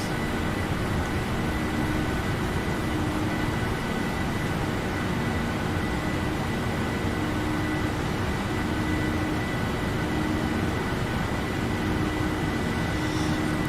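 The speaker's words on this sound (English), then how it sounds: "You can hear the engine in the background." Airliner engines droning in the cockpit of a flight simulator game, a dense, even roar that holds steady throughout with no talking.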